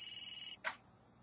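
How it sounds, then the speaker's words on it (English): An electronic telephone ring from The Sims 3 video game, a bright steady tone that cuts off abruptly, followed by a short soft blip, faint and alone. "Who wants me? Answer the phone."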